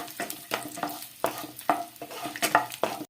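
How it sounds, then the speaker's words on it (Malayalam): Coconut pieces roast in ghee in a pan with a soft, steady sizzle, broken by regular scraping taps of a spoon stirring them, close and without talk. "ഒരു ഗോൾഡൻ കളർ ആകുന്നത് വരെയും നമുക്ക് ഇതുപോലെ ഒന്ന് ഇളക്കി കൊടുത്തുകൊണ്ടിരിക്കണം"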